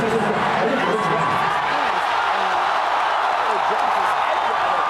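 Fight crowd at a ONE Championship-style MMA bout between Kevin Belingon and Bibiano Fernandes, a steady loud roar of cheering and whooping after a spinning heel kick, with commentary voices talking over it throughout.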